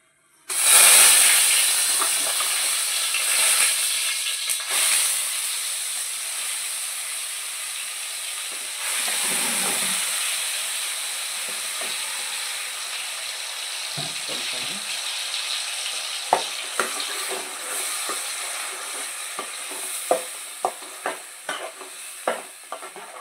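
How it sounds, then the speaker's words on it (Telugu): A paste of onion and tomato hits hot oil for a fish curry and fries with a loud, steady sizzle and hiss, gradually easing, while a spoon stirs and scrapes the pan in frequent sharp clicks. "కొంచెం మనం ఇది కొంచెం వేగనివ్వాలండి."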